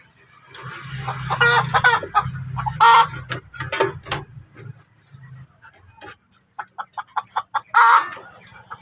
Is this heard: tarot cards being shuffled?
no